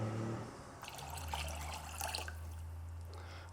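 Water, 250 ml, is poured into a liqueur mix in a home kitchen, giving a steady close trickling splash that runs continuously under a low background hum.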